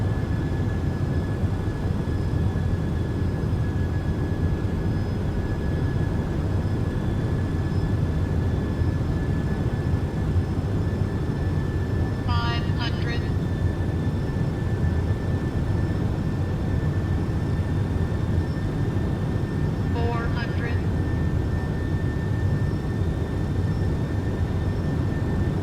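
An MD-11 airliner in the X-Plane 12 flight simulator drones with a steady, loud engine rumble and a constant high whine, and two brief clicking bursts cut in midway.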